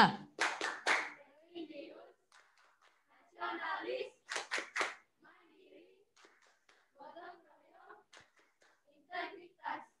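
A class of children claps out the rhythmic PPK clap in short bursts, with a teacher's voice and counting between the rounds.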